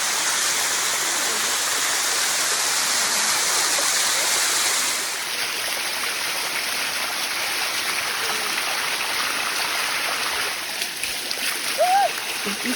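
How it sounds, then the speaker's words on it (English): Water rushes down the Sticky Waterfall in Chiang Mai, a loud, close, steady roar that drops to a softer flow partway through, with faint sounds near the end. "Walking up the sticky waterfall."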